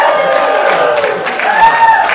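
A live audience in an auditorium in Lancaster, Massachusetts makes noise for a show, a loud blend of crowd cheering, whooping and scattered clapping, with one rising whistle-like cry standing out near the end.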